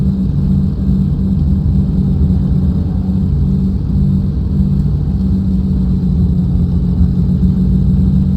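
The engine of a Flight Replicas P-40N Warhawk during propeller cycling, heard as a steady, loud, low drone that holds level throughout with no clear change in pitch.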